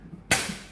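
A single sharp, close shot from a Pro X7 GS Sniper Elite air rifle fitted with a silencer and scope, a quick muffled crack and burst that fades within half a second.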